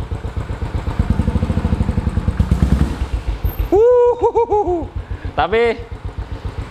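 Royal Enfield 500 Classic motorcycle engine thumping at idle, then revved in two rising bursts that fall back; close and loud, with a brief spoken word near the start.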